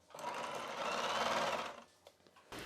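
A sewing machine running steadily as it stitches a blouse seam, a close continuous whirring buzz for under two seconds, then slowing with a few soft clicks before starting up again.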